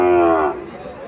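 A Sahiwal cow at a cattle market gives a single loud, close moo that lasts about half a second and trails off.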